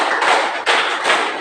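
A classroom group of students standing and clapping hands together in time, with three broad, close bursts of claps in quick succession.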